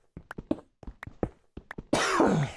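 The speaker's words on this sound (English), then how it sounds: "I'm coughing a lot lately." A short burst of harsh, raspy coughing up close, following a few seconds of quiet speech-like murmuring.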